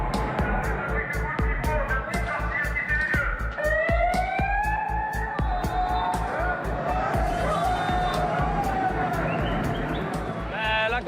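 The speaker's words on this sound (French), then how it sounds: "La police débarque, sirène hurlante." A police car siren wails on a Belgian beach as officers arrive, its rising and falling tone prominent for several seconds over a steady thumping music beat and crowd noise.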